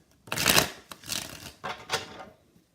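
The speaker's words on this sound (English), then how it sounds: "We got one more shuffle here." Tarot cards are shuffled in several quick riffling bursts, close and fairly soft, with short pauses between them and no voices.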